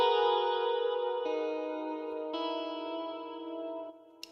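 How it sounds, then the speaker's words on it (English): Guitar from the Solaris GTR Lite free VST plugin rings out in sustained chords, three strums each blooming with chorus and echo and decaying slowly, clean and fairly loud, with a small click at the end and no talking. "This is a very, very nice guitar. This is a free VST, so it's called Solaris GTR Lite"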